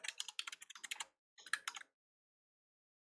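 Bursts of rapid keystrokes typed on a computer keyboard while entering code, two quick clusters of clicks separated by a pause, close and fairly quiet with no talking.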